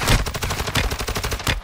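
Call of Duty: Warzone gunfire rattles off in rapid automatic bursts, a dense run of close, loud shots with a brief pause before a final volley.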